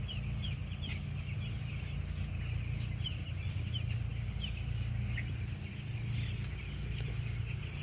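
Chickens in a poultry house make a steady, continuous background of soft clucking and murmuring, with a low hum running throughout and occasional sharper calls rising above it.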